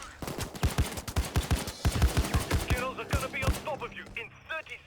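Rapid automatic gunfire in a Payday 2 firefight crackles in dense, steady bursts, loud and close, with a few sparser shots trailing off at the end and no talking.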